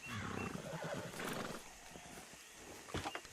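A horse in the Western video game Red Dead Redemption 2 snorts and whinnies close by, with hoof clops and movement noise over a few seconds, and no talk.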